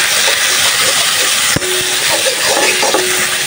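Fish, koi among them, lightly frying in a pan for a bhuna curry, giving a steady, close sizzling hiss throughout with a single soft clunk partway through and no voices.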